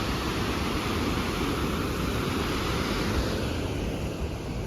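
A silt-laden glacial river in Yoho rushes past close by, its dense, even roar holding steady for several seconds without any voices.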